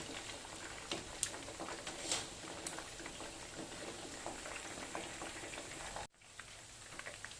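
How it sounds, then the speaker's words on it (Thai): Pork leg frying in hot oil while being turned back and forth, a steady crackling bubble with scattered pops throughout, then a brief drop in level near the end. "จากนั้นก็ ทอดกลับไปกลับมาจน หนังหมูของเราตึง"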